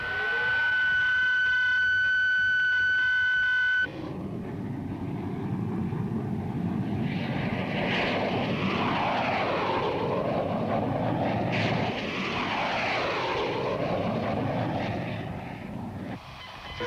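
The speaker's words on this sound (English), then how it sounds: "She's airborne, Dr. Everett." A propeller airplane engine drones steadily through a test flight, a loud continuous roar with shifting tones, preceded by a few seconds of a high steady whine before the engine noise takes over.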